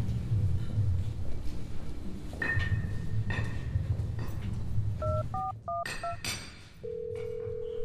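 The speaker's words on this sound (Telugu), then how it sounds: "అరే ఆ వెంకీ గడికి ఫోన్ చేసి ఆకు కావాలని అడుగు." Several short beeping keypad tones as a phone number is dialed, followed by a steady tone, with a faint room background.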